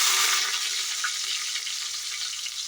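Shallots and mustard seeds frying in hot oil for a spinach dish, giving a steady close hiss and crackle that stays even throughout, with no voices.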